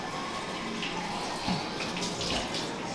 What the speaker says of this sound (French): Je me passe la main à l'eau